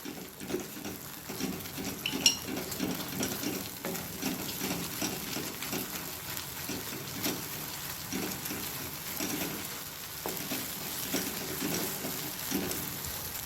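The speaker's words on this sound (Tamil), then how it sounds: "இதை நெய்யில் நல்லா ஒரு 2-3 மினிட்ஸ் நல்லா வதக்கிக்கலாம்." Slices of nendran banana sautéing in ghee make a soft, steady sizzle with faint scraping and stirring, continuous and close at a moderate level throughout.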